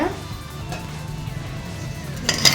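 Sankara fish frying in a pan in a home kitchen, a soft steady sizzle with faint clinks of cookware and a brief brighter crackle near the end.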